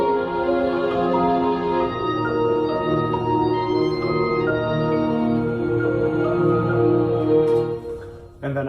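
Layered orchestral arrangement written for an album recording: sustained strings and brass-like harmonies swell together in a dense, continuous wall of sound, loud and steady throughout and ending with a brief break.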